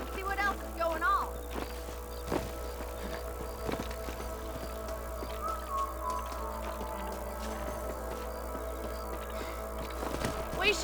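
Horses gallop in the Red Dead Redemption western video game, with a continuous rhythmic clatter of hooves over ambient game sound and scattered thuds.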